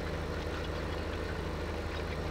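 A 420-horsepower engine idles with a steady low rumble and a regular mechanical pulse, heard close and continuous.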